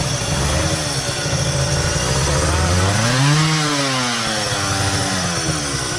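A two-stroke twin-cylinder motorcycle engine buzzes continuously nearby, its raspy drone swelling as the throttle is blipped midway and then settling back to a steady, loud idle.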